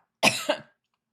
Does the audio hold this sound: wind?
no